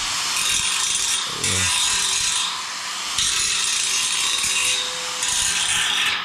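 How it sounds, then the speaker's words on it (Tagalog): An angle grinder works at a home construction project in loud, harsh, close bursts with short dips between passes, and one brief word is spoken. "maingay itong grinder"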